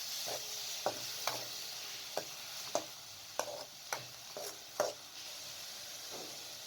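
Chicken pieces fry in a pan with a soft, faint sizzle, broken by a regular series of sharp spatula taps and scrapes against the pan, about one every half second.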